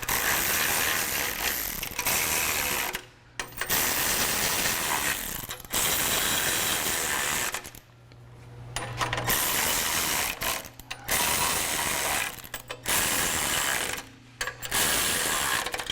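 A hand ratchet tightens the face bolts of a front bumper on a Jeep Wrangler JK, clicking in rapid close runs separated by brief pauses, loud and with no talk.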